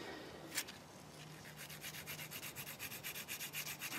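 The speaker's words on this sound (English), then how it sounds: "Just very delicately sanding." Soft, steady rubbing strokes repeat in a quick rhythm, a close, quiet sanding of a small plastic model surface with a sponge, with a faint hum underneath.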